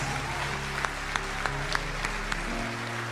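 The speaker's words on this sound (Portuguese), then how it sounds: "nesta noite a igreja pode aplaudir Jesus" Church congregation clapping during an evening service, a brief burst of applause with a few sharper claps over a low steady hum, moderately quiet and with no talk.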